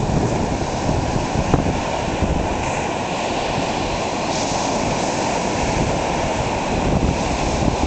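Atlantic Ocean waves and surf rolling onto the beach at Atlantic City on a freezing February day, a steady broadband roar with wind buffeting the microphone, continuous and fairly loud with no voices.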